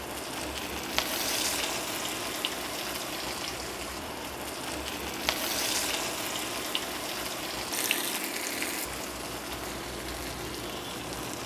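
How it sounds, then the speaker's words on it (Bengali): Small pakora fritters fry in hot oil over low heat, a dense continuous sizzle and bubbling hiss with a few faint clicks, steady and close throughout. "এভাবে ছোট ছোট করে ছেড়ে দিবেন, আর চুলার আঁচটা কমানো থাকবে, তাহলে ভালো মতো পাকোড়াটা ভাজা হবে।"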